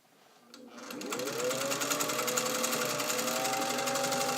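An all-metal Singer 201 sewing machine stitching through four layers of dense cargo pant seams, heard as a close, steady mechanical whir that spins up quickly from quiet and then holds an even, rapid chatter.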